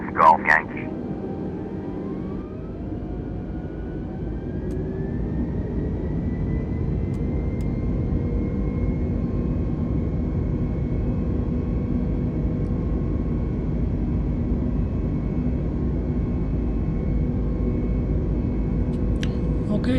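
An airplane taking off in a flight simulator game, heard as a steady, loud engine drone with a slowly rising tone that builds and holds, after a brief burst of sound at the start.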